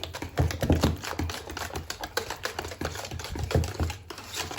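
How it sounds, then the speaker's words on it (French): A flan tart mixture being stirred in a bowl, producing rapid, irregular clicking and tapping of a utensil against the container, close and moderately quiet, with no speech. "Et maintenant, il ne reste plus qu'à mélanger."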